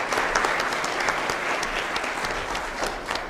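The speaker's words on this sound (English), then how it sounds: "Let's give them one more hand of applause." Sustained audience applause at the Adams State Gives Day 2023 event, dense steady clapping from a crowd for a few seconds.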